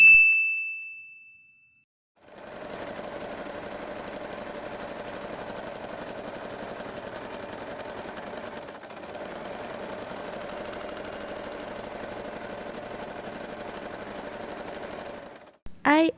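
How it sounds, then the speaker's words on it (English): A sewing machine stitches a fabric pouch in one long, steady run of rapid mechanical whirring, close and even, with a brief ding just before it starts. "stitch this part together."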